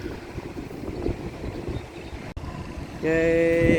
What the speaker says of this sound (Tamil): கண்ணா பின்னான்னு காற்று அடிக்குது.